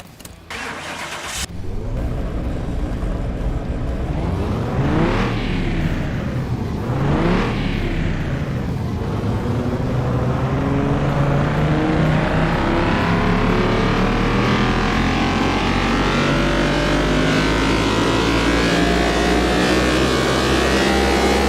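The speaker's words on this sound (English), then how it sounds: "Let's try it out on the dyno and see what it says. I apologize, it's probably gonna be a little loud." A Jaguar car engine in Car Mechanic Simulator 2021 starts with a sharp crank, then revs hard on a dyno, climbing in two loud sweeps before holding a sustained, roaring high-rpm pull, close and loud throughout.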